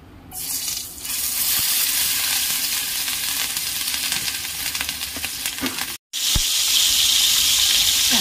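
Fish frying in hot oil in a home kitchen, a loud steady sizzle and crackle that runs continuously, broken by one brief silent gap before resuming just as strongly.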